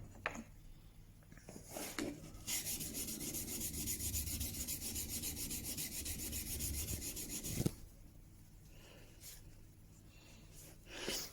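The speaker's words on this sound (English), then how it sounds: "using as much of the stone as possible, flattening the back of this chisel off" Steel back of a Japanese power-grip wood-carving chisel being flattened on a 10k waterstone, a steady close abrasive rubbing for about five seconds, with quieter handling noises before and after.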